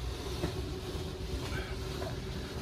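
A Grand Design Transcend Xplor RV slide-out retracting, a continuous low mechanical rumbling drone with faint whines and creaks, steady and moderately loud throughout, with no talk.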